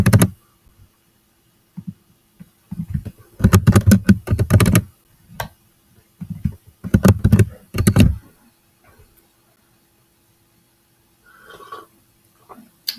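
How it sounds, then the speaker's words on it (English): Loud computer keyboard typing comes close up in irregular bursts of rapid clacking keystrokes, separated by short pauses and near-silent gaps. "I need to get a silent keyboard."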